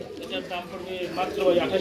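Lahori pigeons cooing at a pigeon sale: low, soft, rolling coos that keep going under a noisy background.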